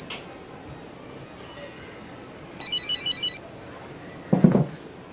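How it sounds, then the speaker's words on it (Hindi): Telephone ringing in a quiet room: a single bright electronic ringtone burst lasting under a second, followed by a brief clatter and handling noise as the phone is picked up. "किसका फोन है बेटा?"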